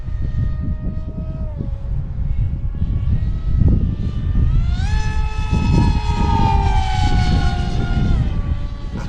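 An Astro Z 800mm RC pusher jet on a 4S battery makes a flyby on a windy day, its whining motor rising and shifting in pitch as it passes close, over steady wind rumble.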